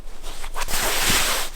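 Zipper being pulled along a Fjallraven Anorak No. 8 jacket, a continuous close rasping slide lasting over a second after a couple of brief tugs.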